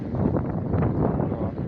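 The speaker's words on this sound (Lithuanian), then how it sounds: "Labai stiprus vėjas, tai ko gero sunkiai girdite" Strong, steady wind buffeting the microphone on a beach on Rhodes where two seas meet, a dense low roar with gusty swells that holds constant throughout and masks other sounds.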